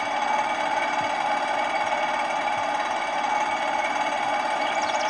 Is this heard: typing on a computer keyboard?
no